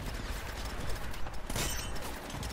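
Mounted gun fire in the video game Uncharted, a dense continuous rattle of rapid shots filling the whole moment with no pause.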